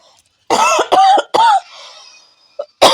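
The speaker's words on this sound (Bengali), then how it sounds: "আমার কাশি হচ্ছে, বুঝতেই পারছো" A woman coughs several times in short, loud bursts close to the microphone, with a softer cough near the end.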